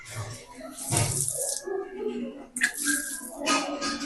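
Water running from a drinking-water tap at a school in Maharajganj, a steady splashing stream that comes and goes while people talk over it nearby.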